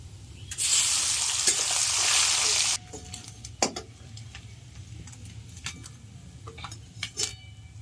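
Fish dropped into hot oil in a home kitchen pan, a loud burst of sizzling followed by quieter frying with scattered clinks of a utensil against the pan.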